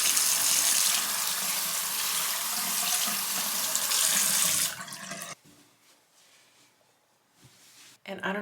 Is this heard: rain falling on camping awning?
no